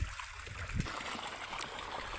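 Irrigation water running steadily through a castor field, a continuous rushing, gurgling flow heard up close with no pauses.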